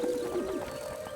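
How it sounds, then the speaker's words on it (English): In a My Little Pony cartoon, a flock of doves coos in soft, low, sustained throaty tones over a constant background bed, close and continuous. "Josephine, if you and the rest of the doves leave now, we should all arrive in Canterlot at the same time"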